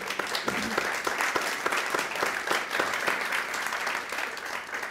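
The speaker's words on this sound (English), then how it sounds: "Please give our panelists a round of applause." Audience applause for panelists at an education symposium, a moderately loud, dense burst of many hands clapping in a hall, steady throughout and easing slightly at the end.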